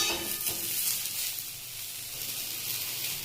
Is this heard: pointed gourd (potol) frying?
yes